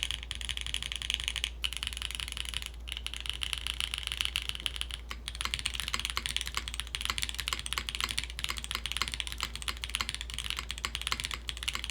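Typing on a Pneuma mechanical keyboard fitted with SWK switches, a quiet, rapid and continuous stream of close key clacks with a faint background hum and no talking.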